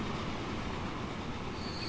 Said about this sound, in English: I will just send this train and upgrade it to 15 cars